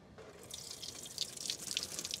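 Water pours steadily from a rain simulator over a 3D printed outdoor outlet cover with a gutter, a faint continuous splashing and trickling that swells slightly as it runs.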